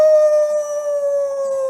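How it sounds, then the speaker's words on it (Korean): Wolf howling, one long, clear, sustained tone that stays loud and steady from start to finish, heard alone. "어디서 늑대 울음소리가 나잖아"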